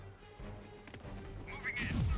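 A grenade blows up in a Marvel's Spider-Man game battle, a brief heavy crash and boom that swells toward the end amid other combat noise and voices.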